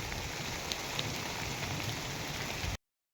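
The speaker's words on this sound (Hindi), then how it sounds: "ये बेहतरीन बारिश हो रही है" Steady, dense rainfall in Karachi pours down continuously with a broad hiss and patter, no voices present, ending abruptly.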